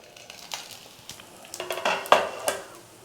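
Kuzhi paniyaram batter cooks on low heat in a covered pan. A soft sizzle runs under scattered metallic clinks and taps that grow busier and louder toward the end.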